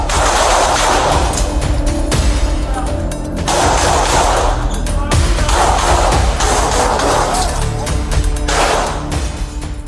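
Gunfire erupts during a police shootout with a suspect at a Miami apartment complex: loud, dense volleys of rapid shots and cracks fill the whole stretch, with brief lulls between bursts.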